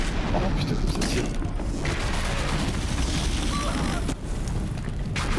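A hostile machine creature firing at the player in Horizon Zero Dawn: dense, continuous rapid booming shots and impacts, loud and close, with someone talking over the barrage.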